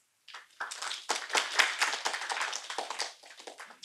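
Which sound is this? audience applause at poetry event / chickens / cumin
audience applause at poetry event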